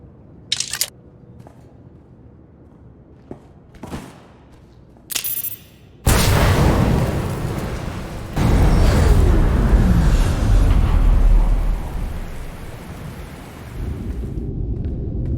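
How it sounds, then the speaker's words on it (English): An explosion near the ion cannon in Star Wars: The Old Republic begins with a few sharp clicks and thumps. A sudden loud roar then bursts in and keeps rumbling heavily for several seconds. "Sir, reports of an explosion near the ion cannon."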